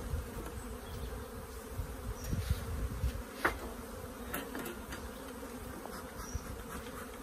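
A steady low buzzing of many honeybees around hive frames, with smoke in use, close and continuous, with occasional brief clicks and shifts in pitch.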